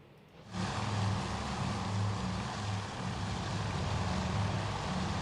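Propeller engines of World War II torpedo bombers climbing away during the Battle of Midway in Task Force Admiral, a loud, steady, droning roar that rises in at the start and holds with a low throbbing hum.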